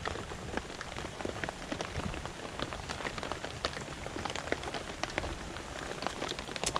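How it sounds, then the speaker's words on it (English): Rain pours steadily at an outdoor garage sale, a dense patter of drops hitting surfaces throughout, fairly close and even in loudness with no voices. "I hope it stops raining for y'all."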